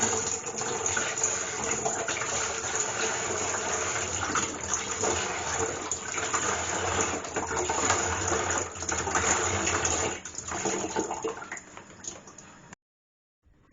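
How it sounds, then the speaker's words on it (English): Apple juice and fruit juice mix poured into a fermenter for homemade white wine, a steady loud gushing splash of liquid that runs continuously before stopping abruptly near the end. "Pour it straight into the fermenter."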